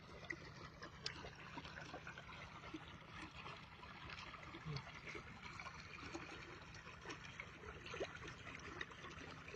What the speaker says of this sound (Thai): น้ำไหลเข้านา